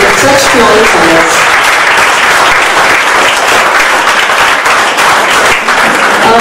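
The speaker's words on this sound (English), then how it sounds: "Let's hear a huge round of applause for our students who have come up with such flying colors." Crowd at a student convocation ceremony in Mumbai giving a big round of applause, loud, sustained and dense clapping with cheering voices mixed in at the start.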